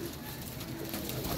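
Soft, steady cooing of kept pigeons murmurs through a low, continuous hum, with no distinct breaks or talking over it.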